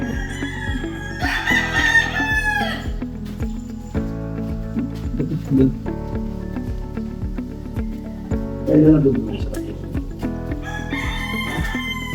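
Imported gamefowl breeder roosters crowing at close range, several long harmonic calls repeating across the clip with a steady rural background, no talking.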